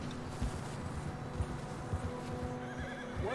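A horse in the Red Dead Redemption 2 video game galloping with steady rhythmic hoof thuds, a whinny rising near the end, with no talking.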